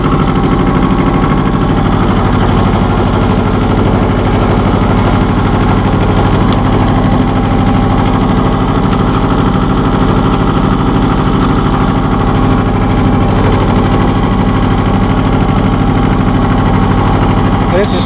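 A 1984 John Deere 650 compact tractor's engine runs steadily and loudly up close, a constant low mechanical drone with vibration throughout, while someone talks over it.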